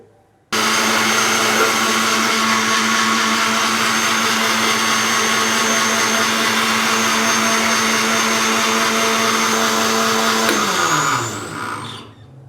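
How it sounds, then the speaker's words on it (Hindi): A blender loudly grinds strawberries with two tablespoons of lemon juice, a steady whirring roar that runs unbroken for about eleven seconds before winding down and stopping. "अभी मैं इसके अंदर 2 खाने के चम्मच लेमन का रस डालूंगा और अभी हम इसको अच्छे से ग्राइंड कर लेंगे।"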